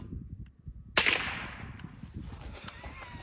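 A rifle loaded with steel-cased ammunition fires once through an Aero Precision Lahar suppressor into the ground outdoors: a single loud, close crack with a short decaying tail over low background rumble.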